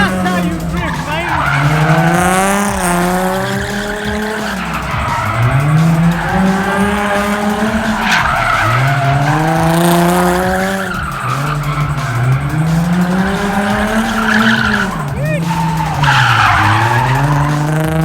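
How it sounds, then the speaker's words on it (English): A BMW E36 and a Nissan 350Z drift at a UK street takeover, tires squealing in long wavering screeches over revving engines that rise and fall in repeated passes, loud and near, with voices audible among the crowd. "That's how you drift, mate."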